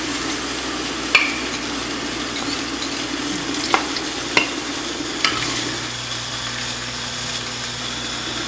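A sauce of sugar, soy and oyster sauce sizzles in a clay pot as a utensil stirs it, with a steady hiss and a few sharp scrapes and knocks against the pot.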